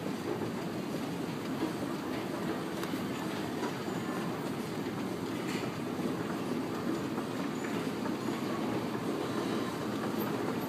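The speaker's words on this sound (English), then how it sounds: "these are the escalators at Elder Beerman" A steady mechanical rumble with faint rattling and clicking runs continuously from Montgomery escalators at Elder Beerman in the Mall at Fairfield Commons, Beavercreek, Ohio, with no talking.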